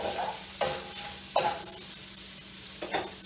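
Diced red pepper stir-fried in a skillet for a pork pot sticker stir fry, a steady sizzle broken by a few sharp spatula scrapes and stirring clatters, close and moderately loud with no talking.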